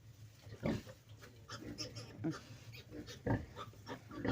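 A sow giving birth calmly on straw makes scattered soft grunts and snuffles over a few seconds, close and fairly faint, with light rustling between them.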